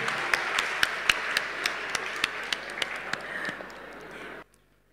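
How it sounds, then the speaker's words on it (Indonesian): An audience at a Banyuwangi anti-drug talk show event applauding, a dense patter of many hands with a few sharper individual claps, fairly loud, then stopping abruptly near the end. "Terima kasih, tepuk tangan Bapak Ibu sekalian."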